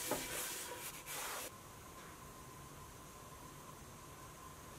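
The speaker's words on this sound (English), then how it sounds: "we're just gonna rub it in to the bottom mostly" Oil being rubbed into the bottom of a cast iron pan by hand or cloth, a loud broadband scrubbing for about a second and a half that then drops to a faint steady hiss.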